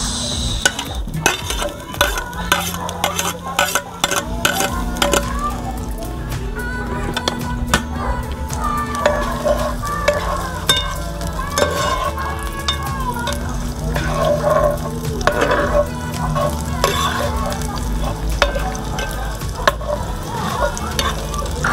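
Chopped garlic and onion sizzling in a hot pan, with crackling oil, a spatula stirring and scraping, and a low hum underneath throughout.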